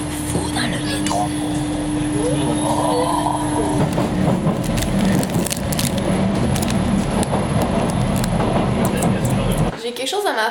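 Subway train riding through a metro tunnel, a loud continuous rumble and roar with steady rattling and a sustained tone, people talking over it, ending abruptly near the close.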